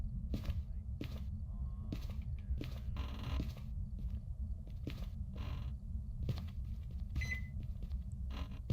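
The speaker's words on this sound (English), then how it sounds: "The microwave just went off." Inside the video game Phasmophobia, a haunted house's microwave goes off with a quick series of sharp clicks and a brief beep over a low constant hum, fairly faint and close.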